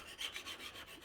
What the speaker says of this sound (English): we'll just give this a little bit of a rub with a stone